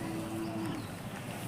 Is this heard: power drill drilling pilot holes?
no